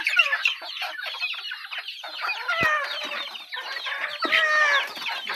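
Many chickens cluck and squawk together in a busy, overlapping chorus, steady and close, with no talking.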